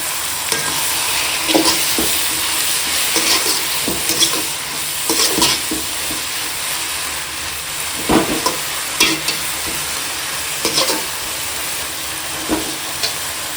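Manathakkali (black nightshade) greens fry with a little salt in a pan. A continuous close sizzle carries repeated scraping stir strokes at an uneven rhythm, and no one speaks.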